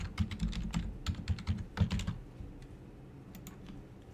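A password is typed on a computer keyboard: a quick burst of about a dozen crisp, close keystrokes, a short pause, then a few scattered taps, with no talking.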